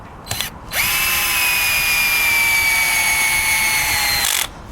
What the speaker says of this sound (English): Just drive this back in.